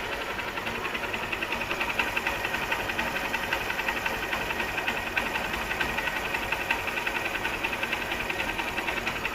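A motorcycle engine idles after a new cylinder block, timing chain, oil seals, packing and fresh engine oil, giving a steady, fast mechanical ticking and whirring hum close up.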